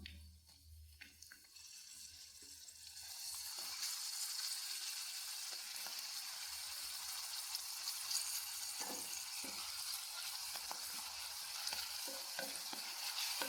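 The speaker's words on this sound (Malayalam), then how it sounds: "എണ്ണ ഒന്ന് ചൂടായി വരുമ്പോഴത്തേക്ക് നമ്മൾ പപ്പടം ഇട്ട് കൊടുക്കാം" Pappadam dropped into hot oil in a home kitchen, a steady bright sizzle of frying rising after a quiet start and holding, with occasional stirring clinks, close and alone.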